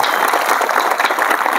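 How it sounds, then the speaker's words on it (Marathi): A village crowd at a kirtan during the Ganesh festival claps for themselves: loud, dense, continuous applause with many overlapping hands and no voices heard. "एकदा स्वतःसाठी टाळ्या वाजवा"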